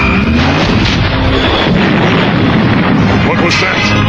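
A weapon fires in an anime battle, unleashing a loud, sustained roaring blast of explosion and artillery-like rumble that fills the whole moment.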